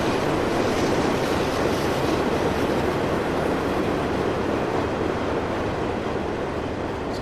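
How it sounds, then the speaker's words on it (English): A long freight train in Farming Simulator 15 rolls past as a steady, broad rumbling roar, loud and unbroken with a faint fade toward the end, no voices. "Well, here's the train."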